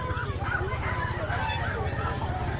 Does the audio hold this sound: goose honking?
yes